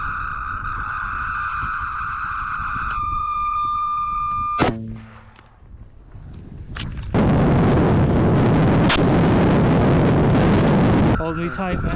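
U.S. Marines firing weapons during a platoon attack in a heavy blizzard: one sharp blast, followed after a short lull by a long roaring rush of noise, with a steady tonal hum beforehand.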